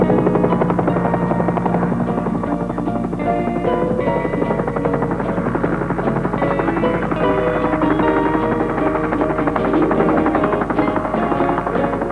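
A helicopter's steady rotor chop and engine drone fill the whole stretch, loud and close, with no letup, in a mountain setting.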